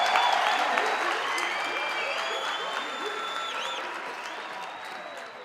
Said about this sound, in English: a big round of applause for our choir